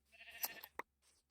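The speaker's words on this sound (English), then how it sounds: "Come here, sheep." A Minecraft sheep bleats in one short, wavering call, fairly close and clear, followed by a brief click and a faint rustle.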